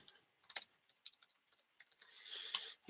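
Someone types a search on a computer keyboard with soft, irregular key clicks, close and quiet, with brief pauses between bursts.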